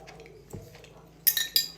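A clean fork clinks against a glass jar while lifting out preserved tomatoes, a few quick close metallic taps and scrapes after a soft handling thump.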